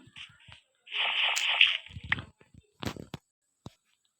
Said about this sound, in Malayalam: ഇത് വെള്ളമാണ് ഇവിടെ